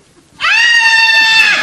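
A single loud primal scream, sustained and strained, begins abruptly and holds steady for over a second without a break. The cry is close and harsh and carries a bleating, goat-like quality.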